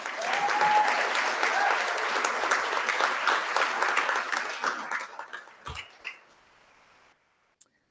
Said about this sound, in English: one more round of applause for your NSERC USRAs.